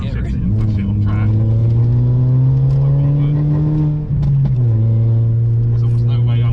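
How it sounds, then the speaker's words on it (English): A Mazda MX-5 convertible is driven hard on a track, its engine droning loud and close and rising in pitch, then dipping briefly before climbing again, with wind rush and a voice speaking over it. "the sound of the car being pushed, the engine"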